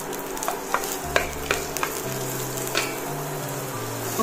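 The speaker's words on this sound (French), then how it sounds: "je vais mettre à peu près une cuillère à soupe d'huile de tournesol dans mon faitout. Et je vais mettre mon oignon." Onion frying in about a tablespoon of sunflower oil in a cooking pot, a steady close sizzle with a few sharp crackles and spoon clinks scattered through, no talking.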